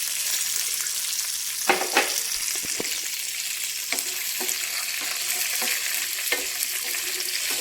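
Sesame seeds fry with raw tamarind in a pan for a tamarind, coconut and peanut chutney, making a constant loud sizzling hiss broken by a few scraping stirs.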